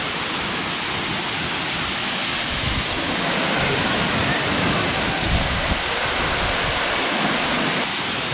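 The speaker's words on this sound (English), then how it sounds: "There are the falls." A waterfall pours with a loud, constant broadband roar, close by and unbroken for its full length, with some wind buffeting against the microphone.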